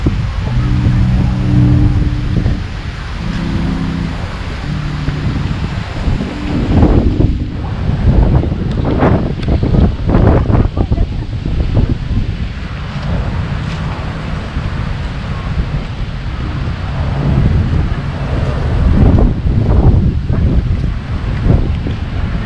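Strong gusts buffet the microphone at Luneta (Rizal) Park in Manila, a loud, continuous roar that rises and falls in waves for over twenty seconds, with faint voices briefly under it at the start.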